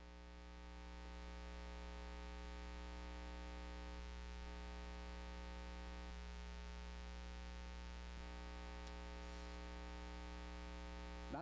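An air conditioner hums noisily indoors, a steady, loud, unbroken drone that comes up within the first second and holds evenly to the end, with no voices over it.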